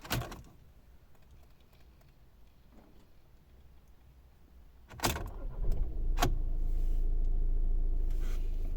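Inside a 2014 VW Passat Alltrack B7 with a 2.0 TDI diesel, a few faint clicks come first, then the engine cranks with a sharp burst, catches, and settles into a steady low idle.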